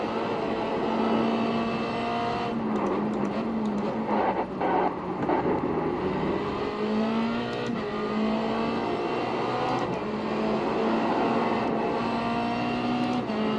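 Race cars lapping Phillip Island in the iRacing sim, engines droning and shifting pitch continuously as the pack circles, with brief clicks and ticks scattered over the steady motor whine.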